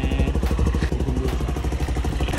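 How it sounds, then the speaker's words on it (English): A motorcycle ridden in figures of eight during a riding lesson in Haiti, its engine loud and close with a steady throbbing rumble and some clattering thumps throughout. "I'm just training myself how to do motorcycles. I'm doing figures of eight."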